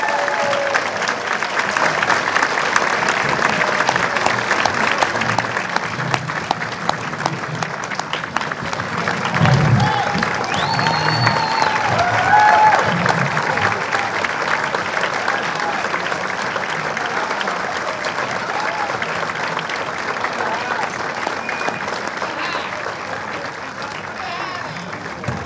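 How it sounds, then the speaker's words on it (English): A rousing round of applause from an audience honoring the 2009 Wilmington Good Guy, sustained crowd clapping that stays full and even for a long stretch, with scattered voices and a few cheers mixed in. "Can we start out with a rousing round of applause for the 2009 Wilmington Good Guy"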